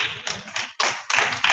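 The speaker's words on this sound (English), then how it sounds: "I need some more hand clap." An audience claps at a church gathering, a dense close burst of many hands applauding in uneven waves with brief dips between surges.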